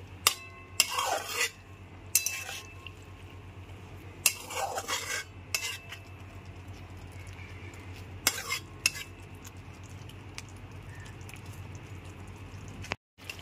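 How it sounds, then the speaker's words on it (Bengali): Fried pointed gourd being stirred into a yogurt curry with a metal spoon, giving several bursts of scraping and clinking against the pan between quieter pauses over a low steady hum. "ভেজে রাখা পটলগুলো দিয়ে খুব ভালো করে মিশিয়ে নিচ্ছি।"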